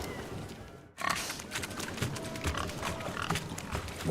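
Pigs grunting in The Witcher 3 during a swineherd pig-chasing race, with repeated close snorts and grunts over busy game ambience after an abrupt start.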